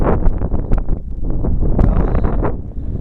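A cold, brisk summit wind on Hyndman Peak in Idaho buffets the microphone in loud, continuous rumbling gusts with no clear pauses.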